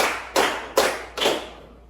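Three separate, sharp hand claps from a classroom group, evenly spaced and ringing briefly after each strike, with no talking between them.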